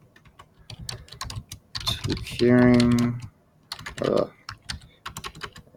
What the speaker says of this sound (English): Apologize for my typing.